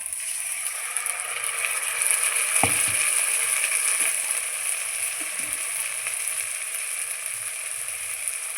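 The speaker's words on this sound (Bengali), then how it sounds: "এবার আমি দিয়ে দিচ্ছি বেটে রাখা মশলা" Ground spice paste sizzling in a frying pan over browned onions for duck egg curry, a steady close hiss with a brief louder burst and faint scraping as it is stirred.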